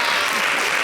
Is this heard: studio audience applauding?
yes